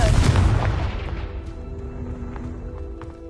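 The Confringo blasting spell in Hogwarts Legacy lands as a loud, close booming explosion that rumbles and fades over a few seconds, with faint footsteps and small rattles trailing after.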